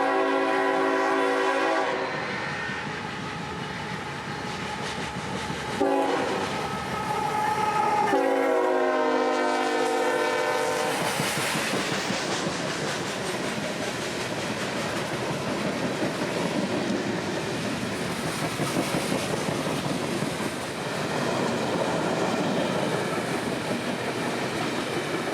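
A short CSX local freight train, L792, passes at a street crossing on Wabash Avenue in Central Florida, sounding repeated loud horn blasts before its cars roll by with steady rumbling and clattering wheels close to the listener.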